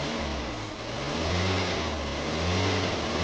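A 2009 Suzuki Jimny engine, running with a faulty radiator fan, is revved up and down in a close, steady mechanical drone that swells and eases over a few seconds.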